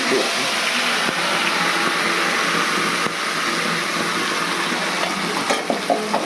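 Ingredient dropped into hot oil for egg malai tikka masala, giving a steady, loud broadband sizzle and frying hiss that continues throughout with a few clinks near the end.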